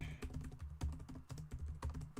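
Computer keyboard typing during a live stream, a steady run of close, crisp key clicks with irregular rhythm and a few heavier strokes, no voices.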